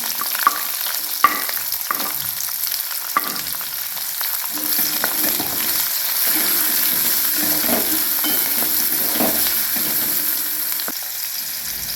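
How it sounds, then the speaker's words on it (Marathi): Garlic, green chili and onion fry in oil in a pan; a few sharp utensil clinks open, then a loud, steady sizzle with stirring scrapes continues without speech. "लसूण बघा लालसर, त्यात हिरवी मिरची टाकायची, त्याच्यातच कांदा पण टाकून घ्यायची।"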